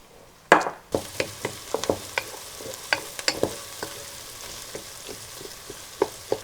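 Meatball mixture sautéing in a pan while Persian Kaleh Gonjeshki is cooked, with a series of close stirring and scraping clicks over a soft, steady background sizzle.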